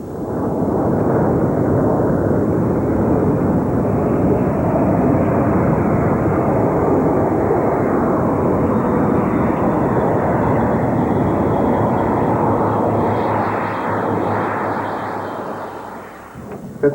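A Lockheed F-117 Nighthawk stealth jet roars loudly and steadily with a broad, unbroken engine rumble for the whole stretch, then tails off slightly at the end.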